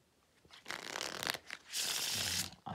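A deck of Bicycle Prestige plastic playing cards is riffled in a couple of quick bursts, the crisp flutter close and fairly quiet, ending with a sustained riffle.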